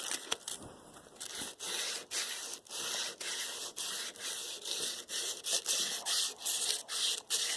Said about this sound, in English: got some heavy grit sandpaper.